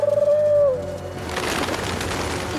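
Soft cartoon pigeon cooing with a throaty warble in the opening second, then fading into a broad wash of background noise.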